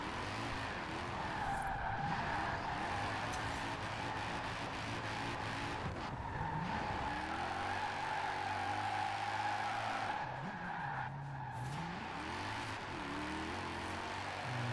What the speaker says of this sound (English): This thing's so fun to drift.